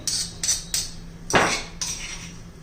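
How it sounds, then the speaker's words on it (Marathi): A series of sharp pounding thuds as a pestle crushes ridge gourd pieces, several light taps then one heavier crushing blow and another tap, close up and irregular in rhythm. "आता उरलेले फोडी पण मी असं ठेचून घेते"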